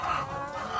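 Chickens clucking in a farm henhouse at feeding time, a steady close-up murmur of several birds with no one talking.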